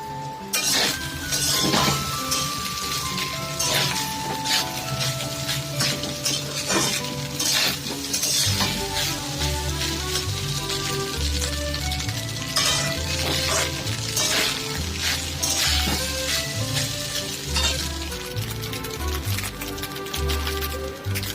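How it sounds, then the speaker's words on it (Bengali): Fried rice with black pepper sizzles steadily in a pan over a gas flame as a spatula stirs and scrapes it, giving repeated metallic clinks and scrapes throughout. "দশ মিনিট ধরে টাইম নিয়ে ভালো করে ভেজে নিয়েছি"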